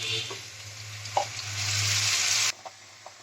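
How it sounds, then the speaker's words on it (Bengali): Cauliflower stem paste goes into a pan of reddish fried onions, giving a steady broad sizzle that swells for about two seconds and then cuts off, followed by a couple of faint clinks. "এবার আমি যে ডাটাগুলো পেস্ট করে রেখেছিলাম সেটা এতে দিয়ে দিচ্ছি"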